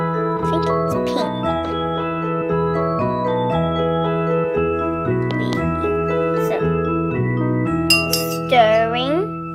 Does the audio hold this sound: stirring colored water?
yes